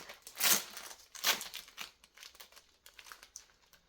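Cellophane packaging on a Chibihour witch-themed box crinkles as it is opened, with two loud rustling bursts followed by softer, scattered crackles, close up and with no talking.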